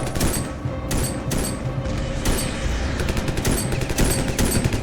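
Video game Ravenfield battle gunfire: dense, continuous bursts of automatic weapons and overlapping shots, loud and sustained throughout.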